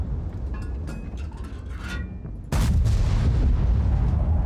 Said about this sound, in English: See if we can get some shots on that Jagdpanzer.